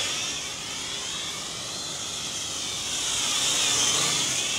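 A Cheerson CX-33C hexacopter drone flies nearby with a continuous high whine of its rotors that swells slightly louder toward the end; no talking.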